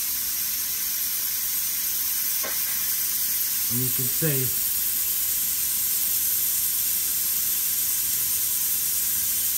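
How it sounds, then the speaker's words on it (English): Steady broadband hiss of a pressure canner venting steam while canning potatoes, continuous and fairly loud throughout, with a few brief tonal clunks midway and a short stretch of speech over it. "has been sitting here steaming now for almost 10 minutes."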